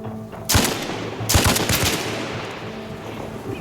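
Bursts of rapid automatic gunfire crackle loudly in Arma Reforger during a forest firefight, two quick volleys followed by fading echoes and a steady low hum.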